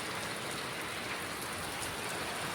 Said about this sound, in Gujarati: જો આવી ગયો વરસાદ.